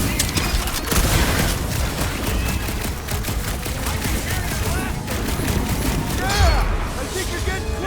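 Rapid volleys of weapon fire in the Guardians of the Galaxy game crackle continuously under a busy battle mix, with short bursts, whooshing effects and people talking throughout.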